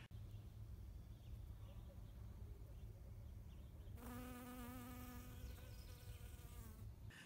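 Bees on Protection Island in British Columbia hum faintly in the open air, then one insect buzzes loudly and close by for a few seconds, its pitch wavering before it fades.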